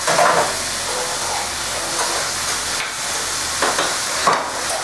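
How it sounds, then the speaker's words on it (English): Garlic and diced tomatoes sizzle hard in a very hot skillet, giving a loud, constant frying hiss with occasional stirring scrapes and bursts of spatter. "It's sizzling quite hot."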